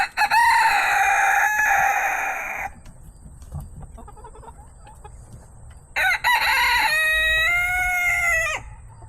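Backyard homestead chickens, silkies among them: a rooster's loud, close crow, a stretch of soft clucking and scratching, then a second long crow, with no voices.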